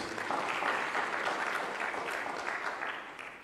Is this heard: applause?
yes